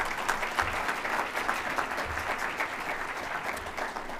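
An audience at a Hispanic Heritage community breakfast applauds a keynote speaker, a steady, even wash of many hands clapping throughout, moderately loud and without pauses.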